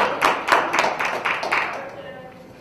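A group claps hands together in a youth gathering, about six sharp, evenly spaced claps in unison over roughly two seconds, then the sound fades into room noise.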